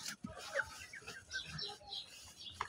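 Chickens, including Sonali and other crossbred hens, cluck in short scattered calls close by while a person talks over them.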